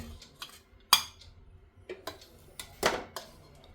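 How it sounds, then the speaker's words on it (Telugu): Food stirred in a cooking pot and then covered with a lid: a few metallic clinks and scrapes, ending in a louder clatter as the lid goes on, close and otherwise quiet. "ఒకసారి కలిపేసేసి మూత పెట్టేసుకుందాం"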